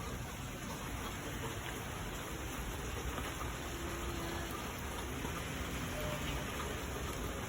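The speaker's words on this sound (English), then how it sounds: "just letting y'all know if it is raining over here. It's raining." Rain falling outside, a steady, even hiss of drops on surfaces that continues without a break, fairly faint, with no other sounds standing out.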